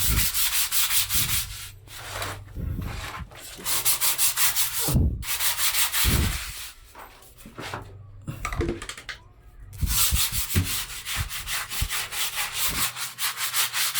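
A stiff brush scrubs a slippery comfort room floor in rapid rhythmic strokes, pausing briefly a few times before resuming, close and fairly loud.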